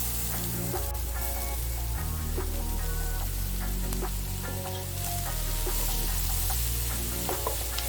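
Onions and lentils sautéing in a pan for Kerala-style clay pot rice give a loud, continuous sizzle with stirring scrapes, close up and unbroken, with faint music beneath.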